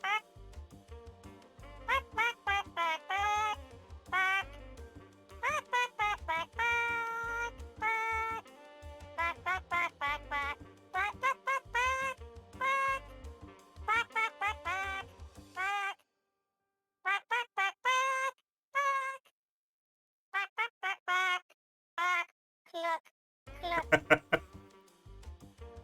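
A voice imitating chicken clucks in rapid, choppy bursts, the cluck-like syllables strung together in rhythmic, song-like phrases with brief pauses, loud and close.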